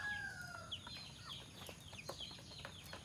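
Native chickens cluck and chirp softly while being fed, scattered short calls over a faint low rustle, fairly quiet and close.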